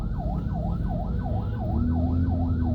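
Ambulance siren wailing in a steady rising-and-falling cycle on a congested road in Uganda, loud and close over a constant rumble of traffic and idling engines.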